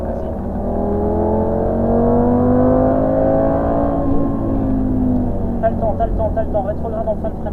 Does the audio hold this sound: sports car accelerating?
yes